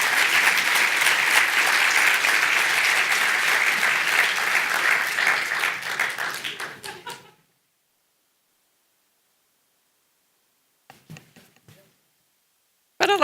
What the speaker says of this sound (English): please give a round of applause to Claudia Coleman